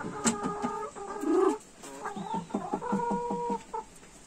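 Hens in a coop with an automatic laying nest cluck close by, a run of short rhythmic clucks and drawn-out calls in two bursts, with no talk over them.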